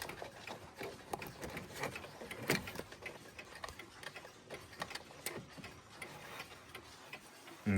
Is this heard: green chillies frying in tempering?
no